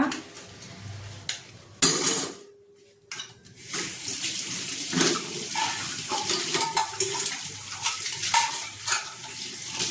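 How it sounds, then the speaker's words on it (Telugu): Dishes, pots and pans being washed under a running tap, with clinks and knocks of metal utensils over splashing water, close and fairly loud, with a short quiet pause early on. "గిన్నెలు తోమేసాను"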